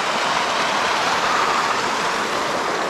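Water spilling from a lagoon near Ushuaia in Patagonia, Argentina rushes down in a steady, dense broadband roar that holds unchanged at close range, with no voices.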